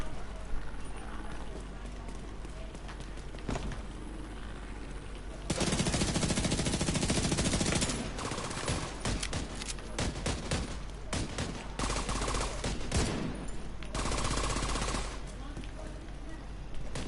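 Shock bullets fired in The Division 2 make rapid, dense bursts of gunfire, loud and sustained in stretches with brief pauses, while a person talks throughout.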